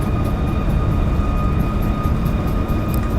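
Boeing 737 MAX jet engines roar at full thrust during the takeoff roll in the X-Plane 11 flight simulator, a steady loud broadband rumble with a high whine on top, continuous and alone.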